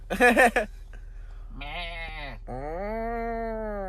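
A person imitates a calf with their voice: a short vocal burst, then two drawn-out, bleating moos, the last held longest, close and fairly loud.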